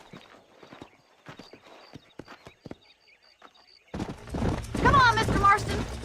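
Horses trotting in the Red Dead Redemption video game, a steady clip-clop of hooves that starts faint behind sparse sounds and then grows loud and busy with galloping motion and a brief whinny near the end.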